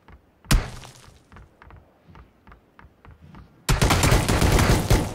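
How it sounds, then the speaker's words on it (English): Gunfire in a PlayerUnknown's Battlegrounds firefight: a single loud shot, then scattered distant pops and clicks, and finally a sustained, dense burst of rapid fire close up. "They're actually in a firefight."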